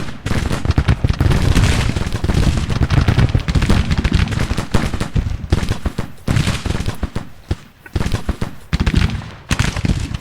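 Dense, continuous Civil War-era musket and rifle volleys crackle loudly in Grand Tactician: Civil War, a sustained fusillade of overlapping shots with brief lulls near the end.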